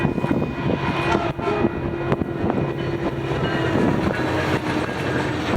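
A northbound FrontRunner commuter train rolls past with a loud, sustained rumble and wheel clatter.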